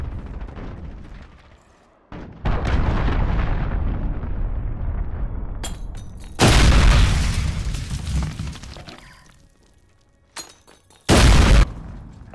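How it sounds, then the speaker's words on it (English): A cruise missile strike in the video game Call of Duty: Modern Warfare lands as a series of loud, booming explosions, a long rumbling blast followed by two sharper, very loud bursts with gaps of quieter debris and fading echo between them. "Cruise missile, take cover!"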